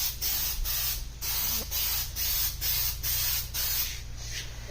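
Aerosol can of Plastidip spraying onto an aluminum wheel rim of a 2014 Toyota Tundra, a close steady hiss broken into short regular bursts about every half second, with no talking.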